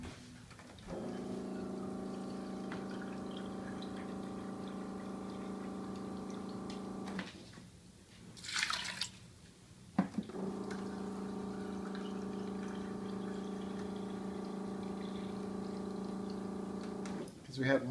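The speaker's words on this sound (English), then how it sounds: "And we're going to use 2 cups of water," Water pours into a pressure cooker holding dal in a steady, even stream with a rising tonal ring for several seconds, stops briefly, then pours again for several more seconds.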